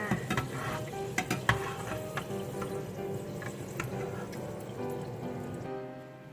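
Sweet potato pieces fry in hot oil over high heat on their first frying, a steady close bubbling sizzle broken by sharp crackles and pops, with faint stirring clatter before the sound drops away at the end.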